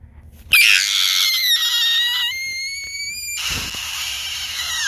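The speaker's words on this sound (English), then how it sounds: "I'm gonna have to scream one more time to let it all out." A player cries out with a long, loud, high scream while playing a Roblox game, sharp onset then held for about two seconds, followed by a second shrill burst that trails off.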